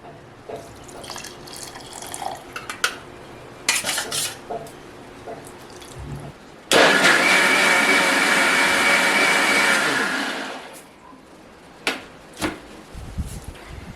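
Electric mixer grinding soaked rice in a home kitchen, a loud steady whirring roar running for about three seconds before cutting off, with scattered clinks and handling noises before and after.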